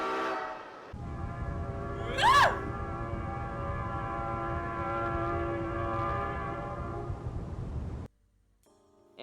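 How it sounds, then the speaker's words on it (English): Amtrak GE E60 electric locomotive sounding its Nathan P01235 air horn in one long, loud multi-chime blast of about seven seconds over steady rail rumble, ending abruptly before a brief quiet tail. "The E60 was equipped with a unique Nathan P01235 air horn"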